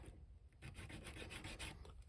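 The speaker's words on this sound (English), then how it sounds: "Right, I'll start sanding now." Steady back-and-forth rasping of a nail file sanding a plastic part of a GI Joe A.W.E. Striker toy vehicle, close and fairly loud, with rhythmic strokes after a brief pause.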